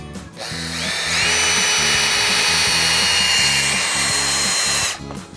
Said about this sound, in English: my trusty drill. Socket on the end.